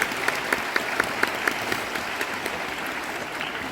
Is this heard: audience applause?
yes